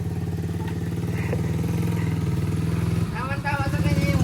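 Motorcycle engine running steadily at a home, a low rhythmic thrum with slight clatter throughout, while people talk nearby over it.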